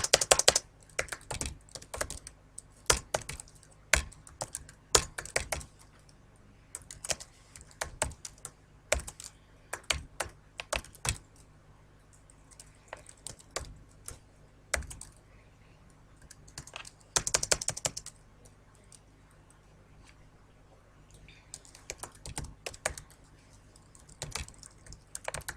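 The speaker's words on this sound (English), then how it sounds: "I'm going to pause it while I type." Typing on a computer keyboard while writing HTML code, irregular bursts of close, crisp key clicks separated by short pauses, continuing throughout with no talking.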